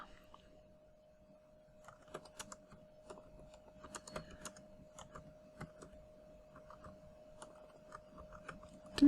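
Soft, sparse clicks of typing on a computer keyboard, faint and irregular against a quiet steady hum.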